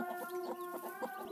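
Free-range village hens brooding and hatching eggs naturally, soft, faint rhythmic clucking in a short quiet series of low calls.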